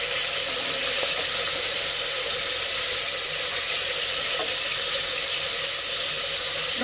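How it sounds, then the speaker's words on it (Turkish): Lamb meat sautéing in a pan for a Cretan-style artichoke stew, giving a steady, close sizzle and hiss that holds evenly throughout, with no talking. "Etimizi bu şekilde biraz kavuracağız."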